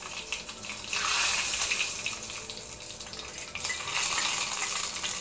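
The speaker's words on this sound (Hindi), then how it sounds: "इसमें 1/2 टीस्पून जीरा डाल रही हूँ, और यहाँ पर कड़ी पत्ता और राई।" Cumin, curry leaves and mustard seeds crackle and sizzle in hot oil in a home kitchen, a steady bright hiss that swells louder after the first second and again near the end, with no talk over it.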